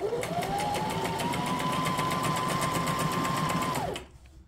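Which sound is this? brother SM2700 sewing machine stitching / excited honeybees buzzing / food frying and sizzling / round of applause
brother SM2700 sewing machine stitching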